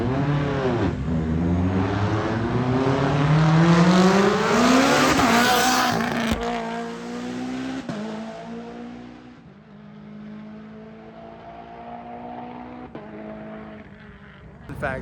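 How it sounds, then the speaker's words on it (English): A Mitsubishi Evo on a mountain road revs hard, its engine pitch rising through the gears with a loud, close roar. Tires squeal briefly before it eases to a lower drone, and a voice can be heard faintly. "Excited about this Evo. I want to hear what it sounds like, because it just sounds and looks mean."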